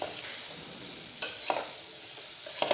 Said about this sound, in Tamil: எண்ணெயிலே பாவக்காய் வெந்துடணும்.